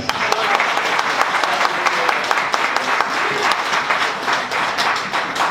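Loud, close audience applause at a church conference, dense steady clapping with sharp individual claps standing out through the whole stretch.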